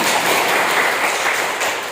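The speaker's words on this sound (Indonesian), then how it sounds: "Terima kasih, berikan tepuk tangan." Dense, steady applause fills a classroom during a Protestant Christian religion lesson, a broadband wash of many hands clapping at once that holds evenly for the full two seconds, with no voices rising above it.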